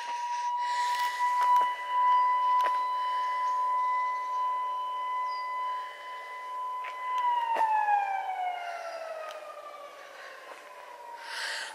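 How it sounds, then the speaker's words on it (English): A quarry warning siren wails steadily before a blast, its tone holding level then sliding downward toward the end, heard from a distance outdoors on a countryside footpath with no talk. "Hear the siren?"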